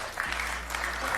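An audience at a talk applauds and cheers in a brief, loud burst of dense clapping and crowd noise that carries on without a pause.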